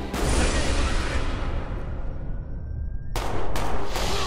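Gunfire and explosions in the Call of Duty Black Ops campaign mission Numbers: dense, loud continuous battle noise with bursts and rumble, then fresh sharp shots and blasts near the end.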